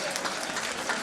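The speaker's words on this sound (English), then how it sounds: "Special round of applause for the class of 1937" Brief burst of steady audience applause at a 2007 Roseville High School reunion, honoring the class of 1937, a dense even clapping with no talk over it.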